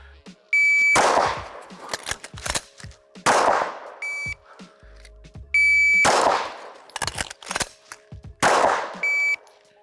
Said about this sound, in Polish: na sygnał oddaję jeden strzał, wymieniam magazynek